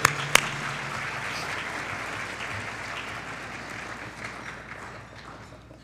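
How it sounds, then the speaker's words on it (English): Audience applause at an evening of excellence awards event, a soft, distant crowd clapping after a sharp knock at the start, steady and then slowly fading. "Let's give them a nice round of applause for their support."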